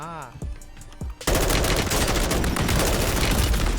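Gunfire in the video game Warzone, with a brief voice before a loud, sustained burst of rapid automatic fire that continues without a break to the end.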